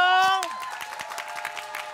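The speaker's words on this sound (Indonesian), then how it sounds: "Tepuk tangan dong." Studio audience clapping at an Indonesian word quiz game show, a busy patter of hands that rises as a host's voice trails off and continues steadily for about two seconds.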